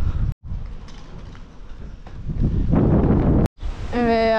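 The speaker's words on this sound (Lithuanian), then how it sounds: "Toks vėjas, kad net kraipo vairą dviračio." Strong gusty wind buffets the microphone while riding a bicycle, a rough low rumble that surges and builds, with brief dropouts.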